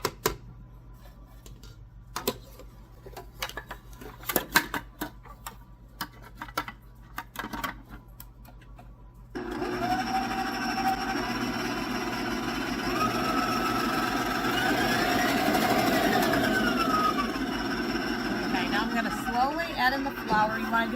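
An electric mixer works flour gradually into batter for vanilla wafers, its steady whir starting partway through and holding at an even, fairly loud level. Scattered clicks and handling noises come before it.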